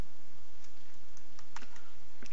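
Several sharp, light computer mouse clicks, sparse and irregular, sound close by with no talking.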